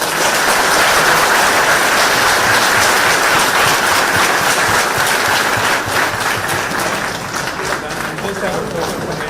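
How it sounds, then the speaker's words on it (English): Loud, sustained applause from a large student audience at a university event, dense clapping and crowd noise filling the room for about nine seconds and easing slightly toward the end. "But can we give him a round of applause?"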